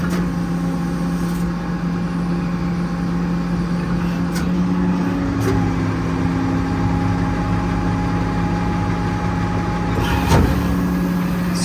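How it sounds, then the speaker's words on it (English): Truck-mounted Tiger 11k crane running out on a 2018 International 4400 service body, a steady close engine and hydraulic drone with a constant hum, occasional faint clicks and a brief louder clunk near the end, no talk. "I'm going to run out the crane now."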